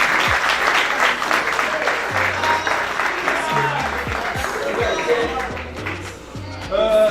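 An audience applauds the sports minister at a university cup-presentation ceremony, with loud, sustained clapping from a crowd throughout, and voices and a low musical tone sounding underneath.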